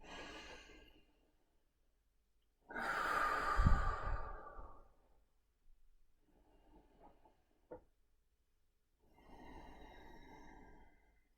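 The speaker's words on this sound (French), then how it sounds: "Prenez 3 grandes respirations profondes." Several people take deep, slow breaths together during a guided session, with long audible exhales and sighs in three separate waves, the middle one loudest, with quiet gaps and a faint click between them.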